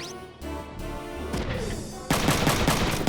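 Gunfire from an enemy in a video game cracks out in loud bursts, a rapid volley that swells into dense sustained shooting near the end, with no talking over it.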